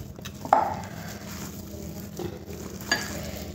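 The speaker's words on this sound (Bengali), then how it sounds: "এই দেখো ঠিকঠাক মাখানো হয়ে যাচ্ছে।" Chicken pieces are mixed with kurkure powder in a bowl, giving a soft, close gritty rustle with a couple of sharper clicks from the bowl or spoon.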